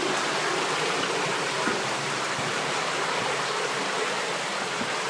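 A creek flows steadily inside Deadhorse Cave, producing a constant, dense rushing and gurgling of water that stays loud and unbroken throughout, with no voices.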